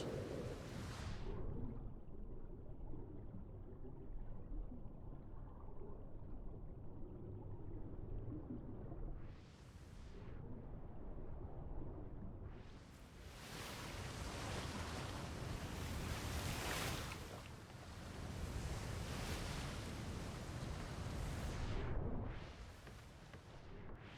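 Ocean waves wash past a sailing ship in a Royal Navy roleplay game, a continuous low surge with several swelling, hissing crests rising and falling through the stretch, with no voices.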